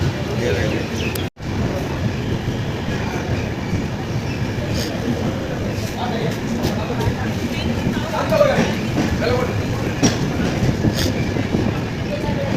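The steady rumble and rattle of a moving passenger train on the Howrah to Guwahati route, heard from inside, continues throughout with faint indistinct voices in the background.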